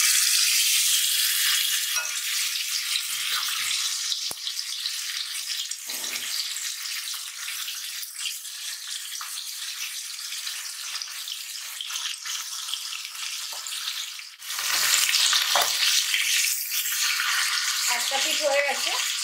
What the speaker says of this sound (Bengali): মাছ খুব সাবধানে ভাজবেন, চেষ্টা করবেন চাপা দিয়ে ভাজার